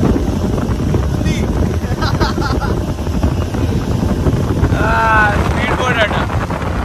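A speedboat runs at the Yagachi water sports center near Gokarna, its engine a steady loud drone under heavy wind buffeting on the microphone. Voices and faint whistle-like calls come through briefly near the end.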